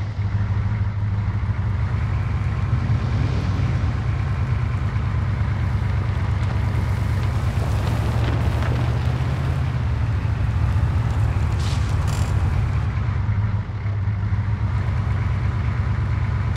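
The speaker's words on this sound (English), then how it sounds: "Especially with the engine on." A military vehicle engine in ArmA 3 runs at a steady, loud idle, a constant low rumble that holds unbroken from start to finish with no talk.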